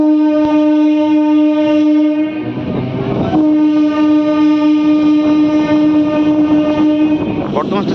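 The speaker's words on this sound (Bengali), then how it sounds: "বর্ধমান স্টেশন থেকে ছেড়ে আমাদের ট্রেন তৃতীয় গন্তব্যে এসে হাজির হল।" A train pulls into Chamardighi station on the Barddhaman line, its horn blaring in a long, loud, steady tone nearby. The horn breaks off briefly midway and then sounds again, with wheels clattering on the rails and faint voices underneath.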